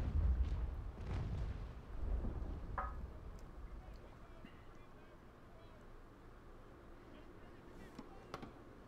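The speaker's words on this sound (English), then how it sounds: "They've got like two cannons pointed directly at my stern." Naval Action sailing-ship cannons firing at close range, several deep booms in the first few seconds followed by quieter distant shots, with someone talking over the gunfire.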